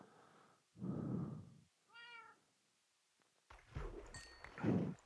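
Minecraft cats give a clear high meow between soft bursts of game noise, one distinct call standing alone mid-stretch before a louder busy passage.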